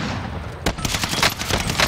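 Close gunfire in Call of Duty Warzone snaps out in loud bursts of rapid shots, a sharp crack followed by a dense, ragged stream of fire.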